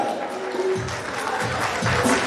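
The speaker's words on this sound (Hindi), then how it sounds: "ये बच्चे के लिए जोरदार तालियां और शुरू कीजिए परफॉर्मेंस" Applause for a child performer on stage at a community gathering, a short burst of crowd clapping mixed with an announcer's voice over a loudspeaker.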